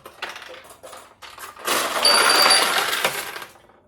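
Steel balls launched through a restored vintage Kyoraku pachinko machine, a loud metallic clattering and rattling rush swelling midway and ringing on, after lighter scattered metallic clicks at the start.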